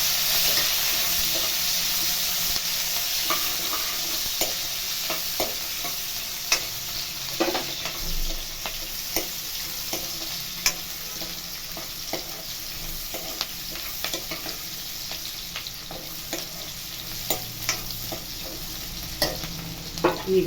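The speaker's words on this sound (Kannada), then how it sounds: "ಕರಿಬೇವಿನ ಸೊಪ್ಪು ಹಾಗೆ ಈರುಳ್ಳಿ ಇದನ್ನೆಲ್ಲ ಹಾಕೊಂಡು ಇಟ್ಕೊತಾ ಇದ್ದೀನಿ. ಎಲ್ಲ ಫ್ರೈ ಮಾಡ್ಕೊಬೇಕು." Curry leaves and onions fry in a pan for a village-style brinjal curry, a soft steady sizzle with occasional stirring scrapes and clicks, close up and with no one talking.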